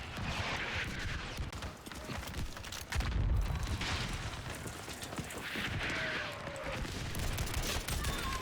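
Bursts of Battlefield 5 video game gunfire and explosions crackle over a dense, noisy battle background, with a heavy boom near the middle from a V1 rocket exploding.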